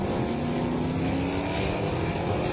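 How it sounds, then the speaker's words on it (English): A drag racing pickup truck's powerful engine roars steadily and loudly throughout, a dense continuous drone with a faint rising whine as it accelerates hard down the drag strip. "Truck running pretty good."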